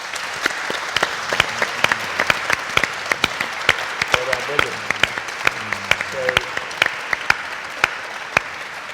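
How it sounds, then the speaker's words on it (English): An audience gives a panel a warm round of applause, steady dense clapping throughout with a voice speaking briefly over it. "Could you please finish us off with giving the panel a nice warm round of applause?"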